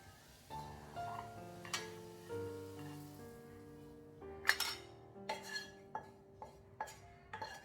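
Cooked bitter gourd and egg are moved into another bowl, heard as a series of light metal-on-dish clinks and scrapes that grow sharper and more frequent toward the end, with no talking.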